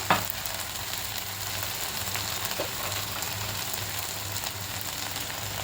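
Onion, potato and tomato sizzling steadily in a pan as spice powders go in, a continuous bright crackling fry with occasional stirring scrapes, close and alone without voices.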